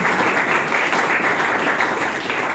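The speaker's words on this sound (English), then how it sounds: "Please clap for him." Audience at a young pharmacists' zonal summit breaks into applause, a loud, dense and even burst of many hands clapping that carries on steadily for the whole stretch.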